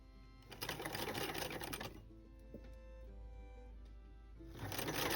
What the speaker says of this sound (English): It is time for speed sewing